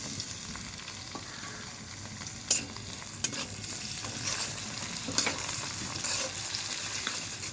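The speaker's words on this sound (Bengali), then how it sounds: "পেঁয়াজটা লাল লাল করে আমি ভেজে নিয়েছি, এবার আমি পেঁয়াজের মধ্যে দিয়ে দিচ্ছি একটা টমেটো কুচি।" Chopped tomato goes into onions already fried red in a pan, giving a steady gentle sizzle with scattered spoon scrapes and a few sharper clicks, close but fairly quiet.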